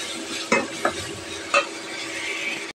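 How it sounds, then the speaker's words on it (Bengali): Ginger, garlic and onion paste is stirred and mixed by hand, a soft, steady wet churning close up, punctuated by three light knocks against the bowl. "আদা বাটা, রসুন বাটা, পেঁয়াজ বাটা, এগুলো এখন মেখে দেবো।"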